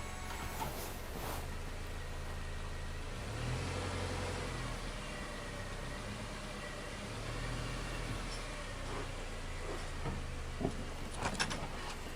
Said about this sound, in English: Backing onto our three-roller test this time, as normal, regular mode, so no X mode.